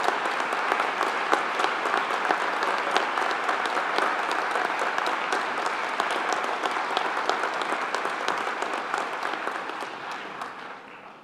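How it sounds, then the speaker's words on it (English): Applause at a 2022 graduation ceremony for the School of Criminology and Criminal Justice: a large audience claps densely and steadily for about eleven seconds before it tapers off at the end, with no speech over it. "I'd like you to give a big round of applause to those, if I may, including some of our amazing graduation team."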